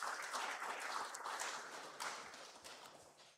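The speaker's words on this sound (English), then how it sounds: "Let's clap for ourselves." Conference attendees clap for themselves, a soft, fairly distant wash of many hands applauding steadily before tapering off.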